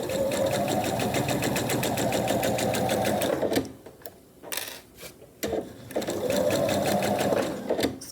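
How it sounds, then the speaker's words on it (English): A sewing machine with a regular presser foot stitches down the sides and bottom of a reversible tote bag: a fast whirring run, a brief pause with light handling noises, then stitching resumes, close and loud. "I'll sew down each of the sides and across the bottom"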